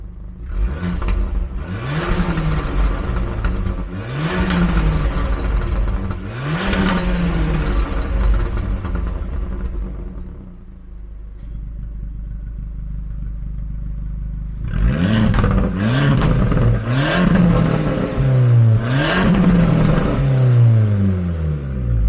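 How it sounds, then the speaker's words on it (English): Abarth 595 engine revving hard in repeated bursts, each climbing and falling, with a steadier idle between them and a more aggressive run of revs after the switch to sport mode; loud and close, no talking. "We'll do a little rev with it standard, and then we'll flip the sport mode and we'll show you what it sounds like then."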